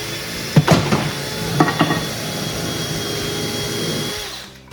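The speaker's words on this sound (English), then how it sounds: "He's doing the pre-drill." A power drill whirs while pre-drilling a hole during a DIY truck camper build, a steady motor drone with a few sharper bursts as the bit bites, then winding down and stopping.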